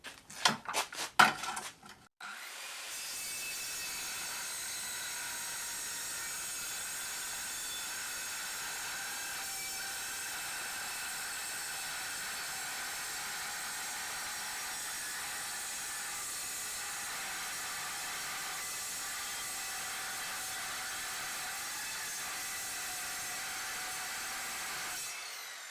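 A plasma cutter slices through steel plate in a continuous loud, steady hiss and crackle. A few short clicks and bursts come first, then a sustained cut runs unbroken to the end with no one speaking.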